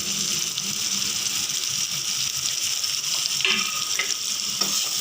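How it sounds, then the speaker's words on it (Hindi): Mashed potatoes and spices fry in a pan with a constant close sizzle while a spoon stirs and scrapes through them in irregular strokes, with no voices. "हमें आलू और मसाले को भी अच्छे से भून लेना है।"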